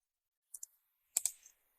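Computer mouse clicks while working in Inkscape, a quiet close double click followed by another pair of sharper clicks a moment later, with silence around them.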